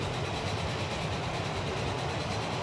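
A 4-8-8-4 Big Boy steam locomotive hauls an oil train in the video game Transport Fever, giving a steady, loud, broadband rolling rumble with no breaks, heard alone.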